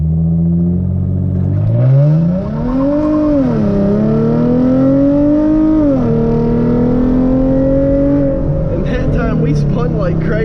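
A Hyundai Genesis Coupe 3.8 launches hard on bigger wheels and tires, its engine rising and wavering as the tires spin, then climbing steadily through the pull, loud and close before easing off near the end.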